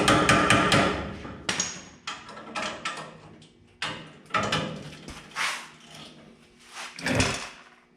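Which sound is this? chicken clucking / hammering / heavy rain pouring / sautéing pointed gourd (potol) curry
hammering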